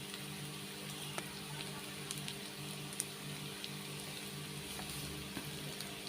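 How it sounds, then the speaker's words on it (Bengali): Onions fry in a pan with a pinch of salt, giving a faint, even sizzling hiss with scattered small pops close by, steady for several seconds with no talking. "নাড়িং চারিং করতেছি, বাট পেঁয়াজ ব্রাউন কালার হচ্ছে না"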